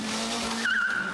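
A 2023 Honda Civic Type R's tires squeal under acceleration, a sharp wavering screech that rises suddenly over a steady engine drone and holds for about half a second.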